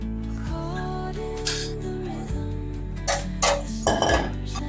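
Roasted poha comes out of a pan with clinks and scrapes of metal utensils against cookware, over a steady background hum.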